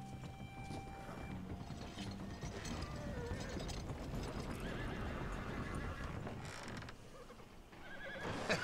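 A horse whinnies amid steady hoofbeats and mechanical clatter, like a cart rolling along, with a busy, dense background throughout, in the game Red Dead Redemption 2.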